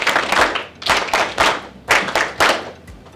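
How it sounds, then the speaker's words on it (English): Seated guests at a business breakfast in a Nairobi hotel clap together in unison, several sharp group claps landing in a steady rhythm at a close distance, with no talking. "we have 3 claps"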